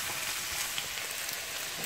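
Sea bass fries in a pan with a steady, dense sizzle that holds at an even level for the full two seconds, with no talking over it.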